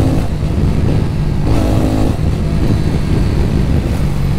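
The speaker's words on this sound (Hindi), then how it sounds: "थ्रॉटल रिस्पांस देखेंगे इस बाइक का तो वो भी अच्छा है, आपको दिखाता हूँ एक बार।" A TVS Ronin motorcycle engine throttled up and held at rising revs, a loud close rumbling drone that surges mid-way and stays steady, with no voices.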